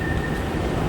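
Bangkok MRT Purple Line metro train at its end station, giving a steady low rumble and hum with a faint high tonal whine fading out, no talk.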